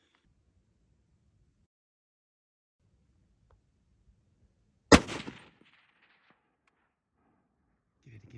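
A single loud, close gunshot rings out during a buck deer hunt, sharp and sudden with a short decaying echo, breaking a quiet outdoor stillness broken only by faint low rustling.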